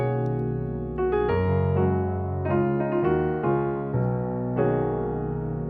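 Piano chords played close and loud, a voicing built on the IV chord, with several sustained chords struck in succession and ringing into each other, no talking.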